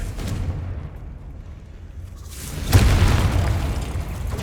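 Spell blasts, Confringo and Bombarda, boom in the game Hogwarts Legacy, with a rumbling burst partway through that stays loud as it decays over game ambience.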